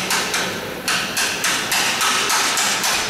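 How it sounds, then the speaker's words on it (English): Sharp, repeated pneumatic bursts of an air-driven rivet squeezer fixing cleats to formers on a Lancaster bomber restoration, about eight in steady rhythm, loud and close in a workshop. "riveting the cleats to the formers using an air-driven squeezer"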